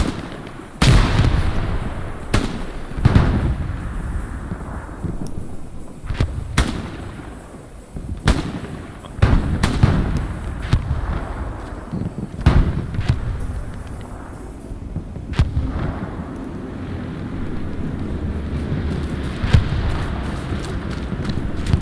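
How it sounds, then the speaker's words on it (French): Grenade blasts in a first-person shooter on the Utah map: a string of loud, sharp explosive bangs at irregular intervals over a rumbling battlefield background, with no voices. "Cette grenade."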